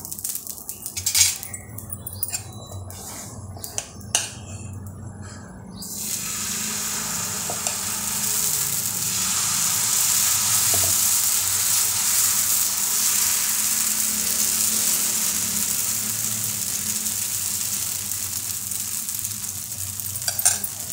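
Thin paper-dosa batter spread on a hot pan: a few scraping strokes and clinks, then a loud, continuous sizzle that swells and holds close by.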